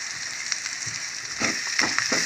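Masala paste with garam masala sizzling and frying in a pan for a Telugu-style chicken curry, a steady bright hiss with a few soft pops and stirring scrapes, close and alone without talk.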